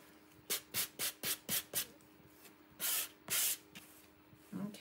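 Someone lightly sands a painted background by hand in a series of quick, soft scratchy strokes, about six in a row. Two longer rubbing passes follow, then a faint brush at the end.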